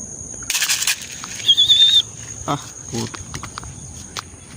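A racing pigeon flying in from Candelaria, Quezon to a loft in Silang, Cavite arrives with a short burst of wing flaps. The flapping is close, followed by faint bird chirps and light thuds against steady insect buzzing.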